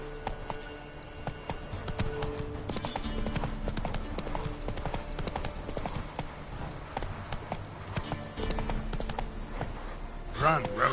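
Roach the horse galloping in a video game, a steady rapid clip-clop of hoofbeats running throughout under a busy game soundscape, with a voice speaking over it.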